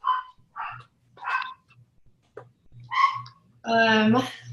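A dog barks in short, sharp bursts, several times with pauses between, ending in a louder, drawn-out yelp, over a faint steady hum.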